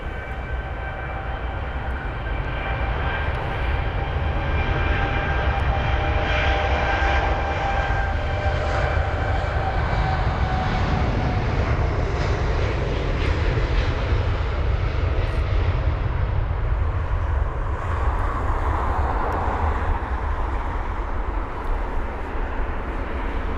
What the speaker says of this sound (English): Departing now is actually a 7879 Dreamliner off to Riyadh, flight number BA263, and it's the British Airways aircraft